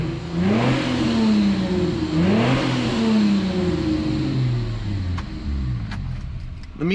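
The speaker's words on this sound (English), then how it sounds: "The meanest sounding Dodge Intrepid you've ever heard, huh?" A Plymouth Prowler engine, said to sound like a Dodge Intrepid, revs up and down several times with rising and falling mid-pitched growls, loud and close, continuous throughout with a few brief clicks near the end.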